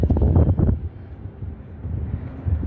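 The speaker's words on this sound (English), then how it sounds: "Going back out here into the wind." Wind gusts outdoors on the Las Vegas Strip, a loud rumbling buffet against the microphone at first that eases into a softer, steady blowing.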